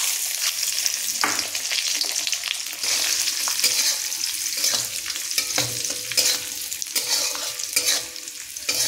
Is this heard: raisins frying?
yes